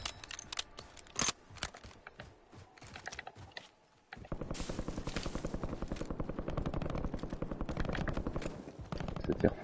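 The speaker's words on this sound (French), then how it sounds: "ça tire fort hein" Rapid bursts of gunfire in the video game Warzone, sparse shots at first, then after a brief lull a dense, continuous rattle of automatic fire that runs loud to the end, with players talking over it.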